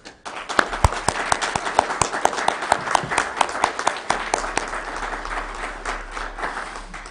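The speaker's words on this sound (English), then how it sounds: "would you please recognize her this morning with a round of applause?" An audience at a Weber County meeting claps in a sustained round of applause, many hands with a few sharper close claps standing out, fading slightly toward the end.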